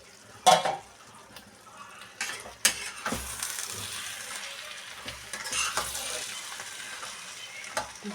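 A spoon stirs boiled banana stem, Gobindobhog rice and potato in a pot, making scattered knocks, scrapes and clinks against the metal with quiet gaps between them.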